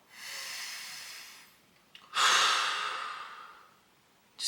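Close breathing shows up as two long airy exhales separated by a short pause, then the sharp start of a third breath at the end. Each exhale is soft and hissing, with no voice.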